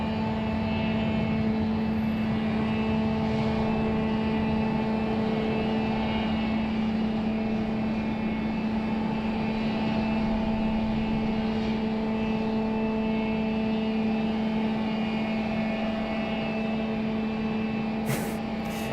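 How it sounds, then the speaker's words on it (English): An airliner lands at Raleigh-Durham International Airport with a loud, steady engine roar and a sustained tonal hum that stays constant throughout. "Another buttered landing."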